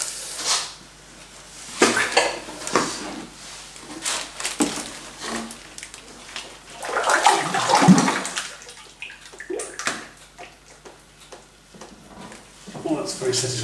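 Plaster is mixed by hand in a bucket for a wedging table: wet sloshing, squelching and scraping in irregular bursts, close by, with a stronger churning swell midway and occasional voice sounds.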